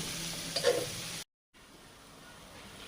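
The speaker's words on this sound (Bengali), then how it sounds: "এবার আমি মাছগুলো দিয়ে দিলাম মাছগুলো একটু কষিয়ে নেবো" Fresh parshe fish sizzling and being stirred in a hot pan of oil, a steady soft frying hiss with a brief clatter of stirring, cut off by a short silence before quieter sizzling resumes.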